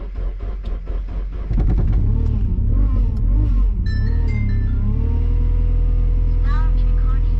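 A supercharged Mazda MX-5 cranks and fires up, then settles into a loud, steady rumbling idle with a few revs close by, while a person talks over the engine noise.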